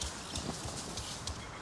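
Hooves of a horse being ridden in Avatar: Frontiers of Pandora clip-clop in a steady rhythm, fairly faint under a constant wash of ambient noise.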